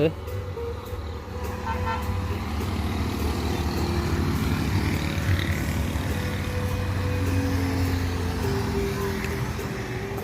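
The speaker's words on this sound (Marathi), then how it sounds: "गाड्या कंटिन्युअसली पाठोपाठ पाठोपाठ आहेत" Evening traffic on a road streams past continuously, with a rolling engine rumble, passing cars and trucks and a few horn toots, partly under a person talking.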